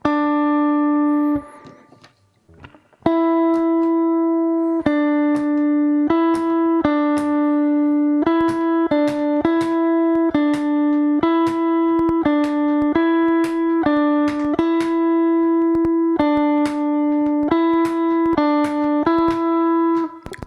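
Bright electronic tones alternate rapidly between two notes in a steady trill, repeating in short bursts after a brief pause near the start.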